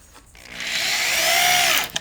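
A power drill drives a 1.25-inch drywall screw into a wooden shelf board, a close, loud rising whir that climbs steadily for over a second and ends with a brief click.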